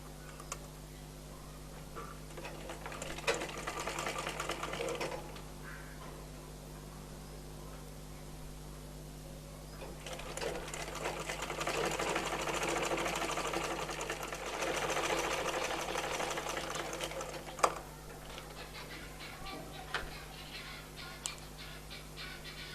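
A sewing machine stitches a baby frock in bursts of fast rattling run, a shorter spell early and a long steady run in the middle, over a constant low hum, close by.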